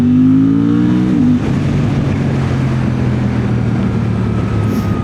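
Engine of a Suzuki GSX-8R motorcycle while riding, a steady loud drone that shifts pitch around the one-second mark as the rider changes speed, with wind rush underneath.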